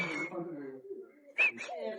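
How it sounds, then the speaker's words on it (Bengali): Pigeons in a park, with soft cooing mixed with a sharper bird call, heard faintly alongside nearby voices. "এদিকে কবুতর"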